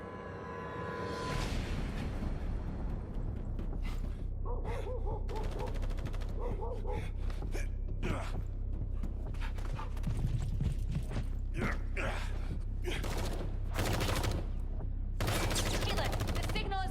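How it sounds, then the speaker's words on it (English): Bursts of automatic gunfire and single shots in the video game The First Descendant, loud and dense over a steady low rumble, with a voice speaking at times. "gunfire."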